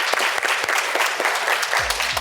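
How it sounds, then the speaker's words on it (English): Audience applause at a resilient parents brunch event, a dense steady patter of many hands clapping close and loud throughout, with a brief voice cutting in near the end. "Can y'all give a round of applause for Crystal?"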